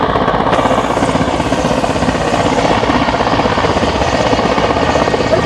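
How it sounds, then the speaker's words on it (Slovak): A Mi-17 helicopter flying during a firefighting demonstration at an air show, its rotor and turbine roar loud, steady and close, filling the whole stretch without a break. "Vrtuľník je najvhodnejším prostriedkom na vykonávanie takýchto zásahov."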